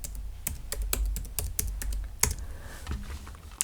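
Fast, close typing on a computer keyboard, a dense run of crisp key clicks with one louder strike partway through, and no speech over it.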